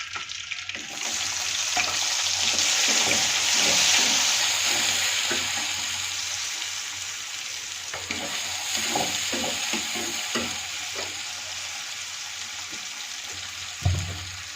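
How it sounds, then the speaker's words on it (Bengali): Spice paste sautéed in a pan after frying fish, a strong continuous sizzle swelling and easing as a spatula stirs and scrapes with soft knocks, close up and without speech. "মাছগুলো ভাজা হয়ে গেছে সব, আমি এগুলো মশলাটা কষিয়ে নেব।"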